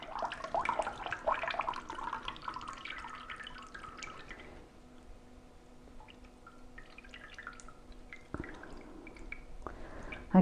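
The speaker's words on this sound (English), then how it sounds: "I think that's pretty much every last drip squeezed out." Dandelion honey drips and squelches from a squeezed muslin cloth, with soft wet trickling and squishing close by, quiet, then a few brief handling knocks near the end.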